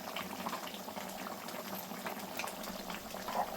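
Tamarind fish curry, chepala pulusu, simmers in a pot with a steady low bubbling, soft and continuous, alone without talk.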